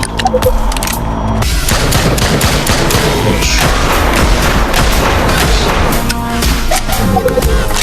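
Dense, loud bursts of rapid gunfire and booming explosions fill a shootout in the VR shooter Drop Dead Dual Strike Edition on Oculus Quest 2, with near-continuous automatic fire throughout.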